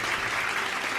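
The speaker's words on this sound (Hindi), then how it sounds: "एक बार और तालियां यार, मतलब दिल से तालियां बजाओ" Audience applause on a televised quiz show, a soft, even wash of clapping heard at a distance, continuous throughout with no voices on top.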